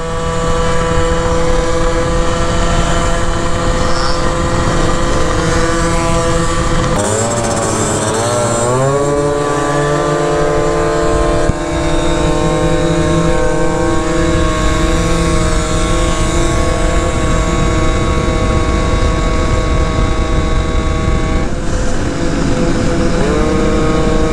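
A Yamaha Zuma scooter with a Polini 70cc kit and Yasuni R expansion pipe runs continuously and loudly up close, a buzzing two-stroke drone whose pitch dips and climbs once with throttle before holding steady.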